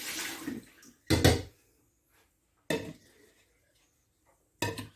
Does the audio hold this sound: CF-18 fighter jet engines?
no